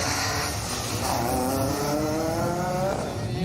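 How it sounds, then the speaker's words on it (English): Red Bull Mini rally car driving through the stage finish on asphalt, a steady engine note with rising revs held throughout, close and loud against a busy background. "you can see the Red Bull Mini now driving through the finish"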